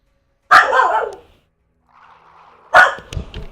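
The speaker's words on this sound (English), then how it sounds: "Hope you can't hear my dog barking in the background." A mini dachshund lets out two loud, sharp barks a couple of seconds apart, close to the microphone, with a faint whimpering sound between them.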